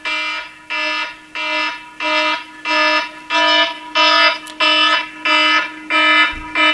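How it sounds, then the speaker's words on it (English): A timer alarm going off indoors, ten evenly spaced electronic beeps in a fast regular pulse, loud and close with no talking. "I set off an alarm."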